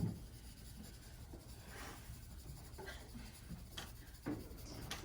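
Pencil side shading a sphere on paper, soft scratchy rubbing strokes repeated in a loose rhythm, faint and close with a few sharper scrapes.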